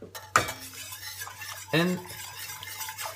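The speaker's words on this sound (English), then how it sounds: "I'm gonna mix, making sure there is no lumps like you see here." Utensil stirring French tomato sauce with stock in a pan, two sharp scraping clinks against the pan with wet swishing between them, close up, with a brief spoken word.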